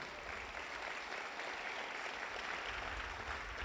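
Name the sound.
congregation applauding in church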